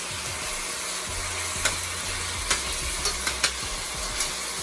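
Vegetables fry in oil for ackee and saltfish, a steady close sizzle running throughout with a few light scrapes and knocks of stirring over it.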